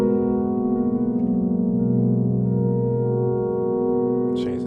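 Sustained tones from an Elektron Model:Cycles synthesizer drenched in reverb, a steady, layered drone with a slight wavering shimmer, loud and without talk, ending with a brief noisy burst.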